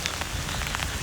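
Steady rain patters on a surface at a Sandbanks Provincial Park beach, a close, dense wash of drops with a few sharper splats, heard alone.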